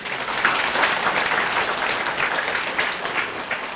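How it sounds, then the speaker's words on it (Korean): Residents gathered for a county town-hall dialogue give a dense, loud, continuous round of applause for a local official, many hands clapping at once without pause. "우리 김진열 검사님께 박수 한번 주십시오"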